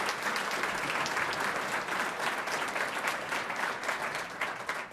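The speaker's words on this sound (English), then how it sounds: "please give her a round of applause" Audience applause at a city's State of the City address, a loud, continuous round of clapping that fills the hall from start to finish.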